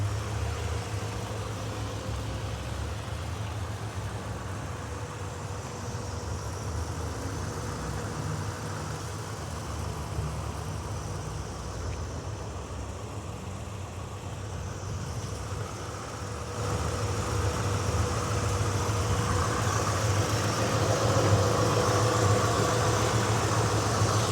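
A 327 small block V8 in a restored 1964 Chevrolet Chevelle Malibu SS idles steadily and low for a long stretch, a constant rumble that grows slightly louder near the end.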